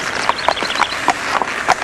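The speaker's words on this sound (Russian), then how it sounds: "Ты так давно мечтал покататься на лошади." Horse hooves clip-clop at an even pace during a ride, a string of distinct, fairly close hoofbeats that stands alone without speech.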